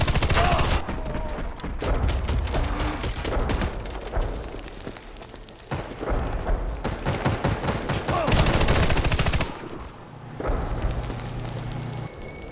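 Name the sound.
gunfire and artillery in the video game Warface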